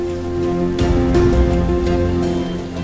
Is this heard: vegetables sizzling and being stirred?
no